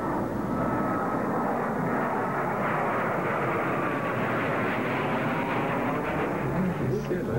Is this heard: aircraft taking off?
yes